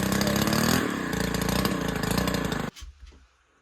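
STIHL KM110R two-stroke engine running after a carburetor replacement, a loud, buzzy steady drone that cuts off abruptly near the end, leaving a brief faint low sputter and quiet.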